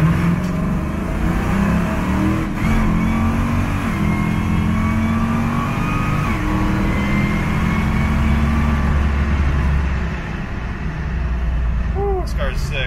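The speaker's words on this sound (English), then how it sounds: "let me do an acceleration quick" A 1969 Chevrolet Camaro engine revs and accelerates in 3rd or 4th gear, a steady low growl rising in pitch, loud and close throughout with no pauses.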